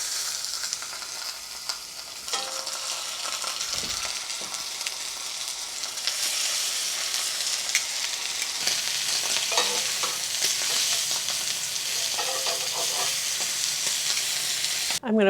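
Steady loud sizzling of pork chops frying in a pan, a constant hiss with occasional pops and spatters, plus a few clinks of a utensil.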